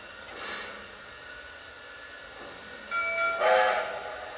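A Lionel Visionline 4-6-4 700E Hudson model steam locomotive sounds after sequence control is activated, giving soft hissing bursts and then a louder whistle blast near the end, heard alone.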